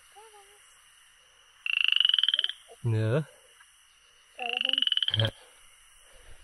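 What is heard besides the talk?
toad croaking on a mountain path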